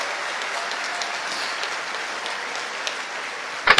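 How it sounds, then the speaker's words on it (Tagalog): Audience applause during a Philippine senator's speech on the national budget, a soft, even patter of clapping across a hall, ending in a sudden louder clatter. "palakpak kayo ng palakpak"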